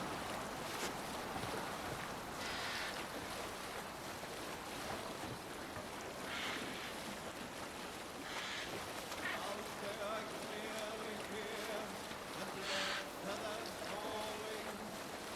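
A Viking longship under sail at sea in Assassin's Creed Valhalla, with continuous wash of waves and wind rushing steadily throughout, plus faint creaks and tones over the noise, while voices talk in the background.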